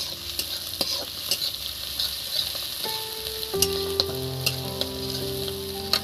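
Chopped onion and cloves fry in a pan for a kachkolar kofta curry, giving a steady, close sizzle with sharp pops and crackles scattered through and some stirring clatter toward the end.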